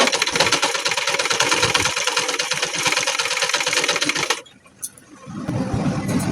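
An electric sewing machine stitches a Modhubala blouse in a fast, continuous rattling run that stops abruptly after about four seconds, followed by a brief quiet click and a low hum, close and loud without speech.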